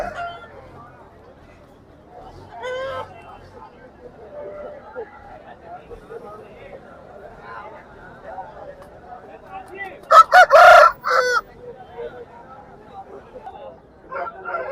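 Roosters crow amid faint background chatter at a rural poultry market, with one loud, close crow standing out partway through.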